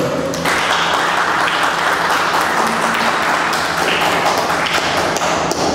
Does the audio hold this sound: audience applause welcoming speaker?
yes